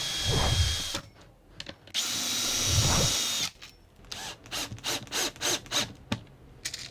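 A power drill whirs in two sustained bursts with a self-centering drill bit boring hinge holes in scrap-wood cabinetry, followed by a string of short clicking and ratcheting sounds, close and fairly loud with no talking.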